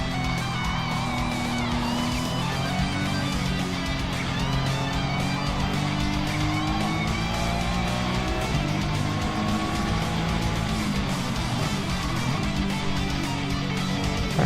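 Race cars charge around a circuit with sustained loud engine roar, rising and falling harmonics as they brake and accelerate, continuous and close without a break.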